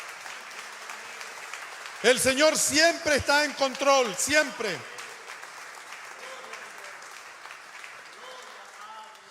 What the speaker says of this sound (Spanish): Alguien dele un buen aplauso al Señor en esta hora.